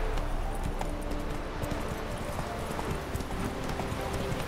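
Galloping horse hooves from riding in The Witcher 3, a steady rapid clip-clop rhythm that runs throughout, moderately close, with game ambience and faint background speech beneath.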